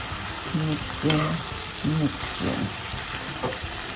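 Ackee and salt fish hiss in a hot pan for the Jamaican national dish while being mixed, a soft sizzle with a few stirring knocks and a voice briefly over it.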